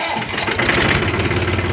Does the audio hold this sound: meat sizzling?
no